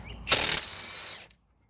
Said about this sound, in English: we can go ahead and use our power tools